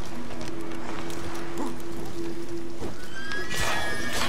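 Roach, Geralt's horse in The Witcher 3: Wild Hunt, whinnies with a sustained tonal neigh, along with hoof clip-clops and game ambience, ending in a brighter, louder burst.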